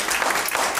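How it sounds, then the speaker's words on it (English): Church congregation hand clapping, a short, fairly loud burst of many hands striking together in a dense, even patter. "Give him a hand clap."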